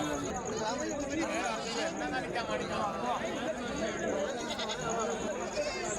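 Goats and sheep bleat at a busy livestock market, calls rising now and then through steady crowd chatter and nearby talk.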